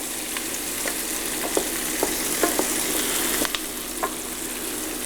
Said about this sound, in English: So you can hear that sort of sizzle is what we want.